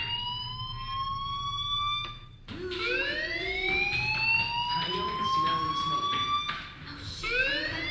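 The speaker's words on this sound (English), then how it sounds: "Hey, do you hear that fire alarm?" A fire alarm rings in the video game Life is Strange, a loud, repeating electronic whooping tone that sweeps upward in pitch, briefly drops away, then returns, with low background sound beneath.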